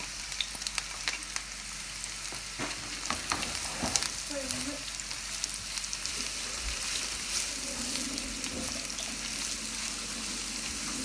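A sliced large onion fries in a pan, a constant crackling sizzle broken by stirring scrapes and clinks, close and fairly loud with no voices.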